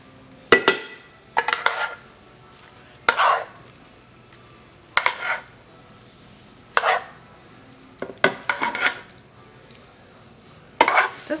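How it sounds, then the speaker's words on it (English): Ground beef goes into a hot pan for a zero-carb paleo pesto pasta, with about eight distinct bursts of clattering, scraping utensil-on-pan sounds separated by brief pauses, close and fairly loud. "Now we're going to get our beef in here."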